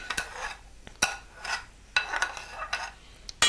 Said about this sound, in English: So we'll put them aside in a bowl